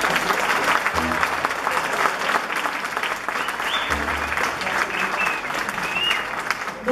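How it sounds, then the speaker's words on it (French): A concert audience at a vocal group's show in Val d'Aran, Spain, applauds the arranger of the four-part vocal arrangements, with dense steady clapping throughout and faint crowd murmur. "Ben, vous pouvez l'applaudir à nouveau"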